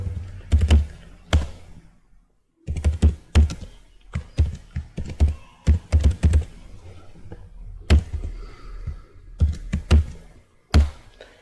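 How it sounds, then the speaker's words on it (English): Keys clack on a computer keyboard in uneven bursts of taps, close and crisp, with a short pause before the typing resumes. "So inside body I'm typing a sample code."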